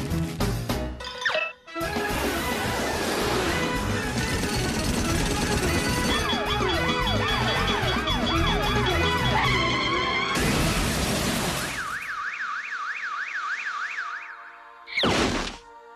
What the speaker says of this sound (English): can't escape the noise of the big city